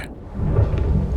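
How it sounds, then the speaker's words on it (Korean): Thunder during a storm, a deep, loud rolling rumble that swells after a brief quiet start, with a rain-like hiss beneath it. "you're scared of the thunder and lightning"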